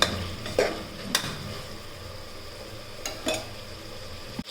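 Tomatoes sauté in a pan for vegetable rice, a low continuous sizzle broken by several short scraping stirs and spoon clinks spaced a second or two apart.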